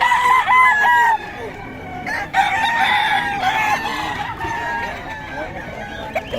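Roosters and hens at a poultry market in Bocaue crow and cluck repeatedly, several birds overlapping close by, with a voice talking through the noise.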